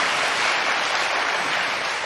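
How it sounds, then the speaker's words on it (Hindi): Audience at a spiritual discourse applauds, a continuous wash of many hands clapping, loud and steady throughout. "ताली तो बजाओ।"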